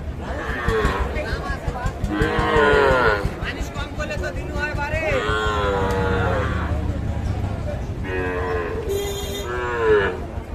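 Sahiwal calves at a busy cattle market in Bogura bellowing in several loud, drawn-out moos one after another, close by, with people talking and bargaining around them.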